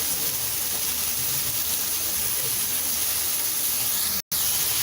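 Cabbage and mixed vegetables sauté in a pan over high heat for Schezwan fried rice, giving a steady, close hiss and sizzle throughout with a brief dropout near the end.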